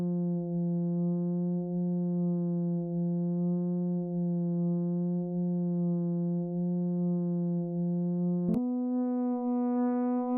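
A synthesizer in Pigments 4 holds a steady, buzzy tone with a slow, gentle pulsing wobble from a sine LFO, then abruptly jumps to a higher note near the end.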